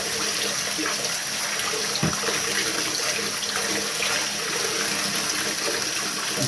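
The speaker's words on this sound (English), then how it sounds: "And let the water run through the tubes and out the other end." Water rushes steadily through the tubes of a trombone being rinsed, a loud continuous splashing flow like a running tap, with no talking.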